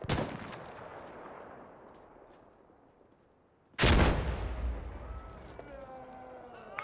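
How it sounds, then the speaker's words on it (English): Grenade explosion in the shooter Insurgency: Sandstorm: one sharp, loud blast midway with a long rumbling tail, following earlier gunfire fading out, then faint ringing tones after the blast. "Grenade out."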